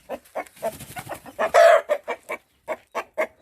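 A rooster gives a rhythmic series of short clucks, with one louder, drawn-out squawk midway, close by and otherwise quiet.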